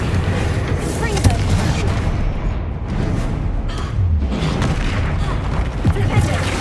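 Confringo explosive spell cast in the Hogwarts Legacy video game, a loud, dense booming blast with crackling bursts and rumbling low end sustained throughout, with a voice talking over it.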